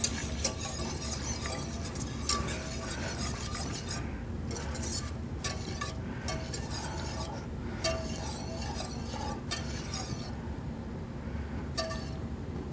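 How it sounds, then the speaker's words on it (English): Eggs being tempered for pastry cream as hot liquid is poured in slowly, with steady stirring, scraping and light clinks of a utensil against a bowl running throughout at close range. "I'll pour it slowly into my eggs, and I want to do it slowly and stir because I want to temper my eggs"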